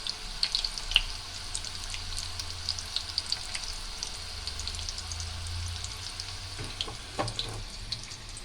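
Chicken kabab pieces deep frying in oil at home send up a steady, close sizzle and crackle with small pops, holding evenly throughout and stirring briefly near the end.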